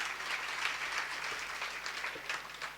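Audience applause at a live Hindi kavi sammelan poetry gathering in Hamirgarh, a steady wash of many hands clapping at once, sustained and fairly even throughout with no voices over it.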